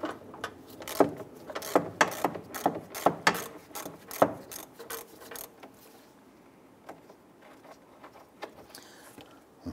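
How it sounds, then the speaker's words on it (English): Ratchet with a 13 mm socket loosening a bolt on a Dodge Ram 1500 during radiator cooling fan replacement: a series of close, quick clicking strokes, then sparser clicks and quiet handling. "Using our 13 millimeter socket and our ratchet, let's go ahead and loosen and remove this bolt."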